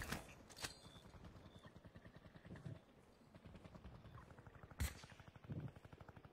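Gunfire in a battle royale shooter game, bursts of rapid shots and sharp cracks with a loud close report near the end, over a steady mechanical hum, fairly faint and without talk.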